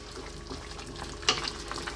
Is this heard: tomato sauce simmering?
yes